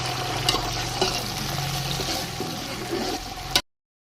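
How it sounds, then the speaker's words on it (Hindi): Peas sizzle and crackle steadily as they fry in a pan, close and continuous, with a few soft clinks before it cuts off abruptly. "आवाज़ सुन सकते हैं कि कितने अच्छे से ये फ्राई हो गए हैं।"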